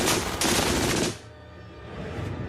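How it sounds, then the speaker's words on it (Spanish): Bursts from a German MG-42 machine gun, a rapid tearing rattle so fast the individual shots blur together; a loud sustained burst of about a second, then fainter, distant firing continues. "Se la conocía como la cremallera de Hitler porque producía un ruido parecido a desgarrar ropa."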